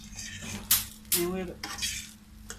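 Egg fried rice with scallions being stirred and combined in a pan, a utensil scraping and clinking against the metal over a soft sizzle, with a couple of sharper knocks, close up and no talking.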